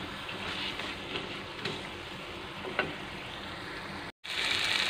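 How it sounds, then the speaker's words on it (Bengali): Spices with Kashmiri red chilli powder fry in a pan for a vegetarian chhena kofta curry, giving a steady, close, broadband sizzle with faint stirring scrapes and one brief dropout near the end. "সবগুলো দিয়ে আর একটু ভালো করে কষিয়ে নিচ্ছি"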